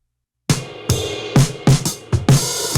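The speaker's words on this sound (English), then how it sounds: "you can hear it. There's a lot of hi-hat bleed." Multitrack drum recording with heavy hi-hat bleed, played alone: a series of punchy hits with bright cymbal wash carrying between strikes, fairly loud after a short silence.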